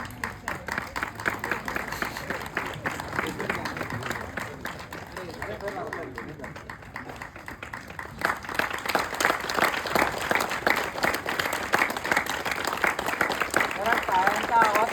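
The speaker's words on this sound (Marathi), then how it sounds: "जरा टाळ्यांचा आवाज कमी होतो." An audience at a runners' gathering applauds, with steady clapping from a crowd and voices mixed underneath, swelling noticeably louder in the second half.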